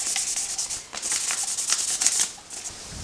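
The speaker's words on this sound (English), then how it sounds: "after sanding it down with 1500 grit paper" Fine 1500-grit sandpaper rubs back and forth over a Yamaha Virago XV750 motorcycle tail light lens, a close, dry, rhythmic scratching in quick strokes with a short pause partway through.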